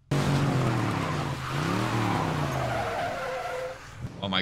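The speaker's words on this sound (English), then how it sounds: "Oh my god, hear that car go." A car spins out in a movie scene, its tires squealing in long, wavering, rising and falling screeches over engine roar, loud and close, with a short sharp sound at the end.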